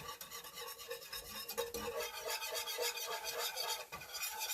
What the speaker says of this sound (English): Now we're going to mix this up.